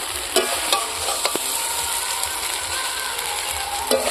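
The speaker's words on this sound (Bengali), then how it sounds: "সবজিটি আমি দশ মিনিট কষিয়ে নিলাম" Raw banana, radish and red potato sauté in oil in a pan, giving a continuous close sizzle with a few crisp spatula scrapes and taps scattered through it, no talking.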